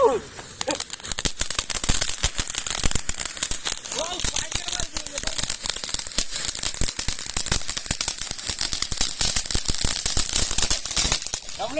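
A fancy firecracker bursts into a dense, continuous crackle of sharp pops that lasts throughout, with voices occasionally heard underneath.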